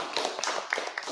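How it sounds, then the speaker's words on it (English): Audience applause at a crypto community meetup, a short burst of scattered hand claps from a modest crowd at moderate distance, with no talking over it. "So let's give a hand of applause."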